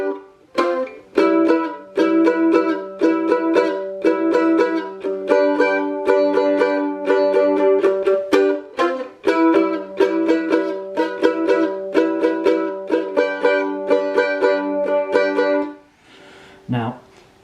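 Mandolin strums the chord progression of Whiskey in the Jar, bright, steady rhythmic strokes played close and loud throughout, with a brief pause near the end.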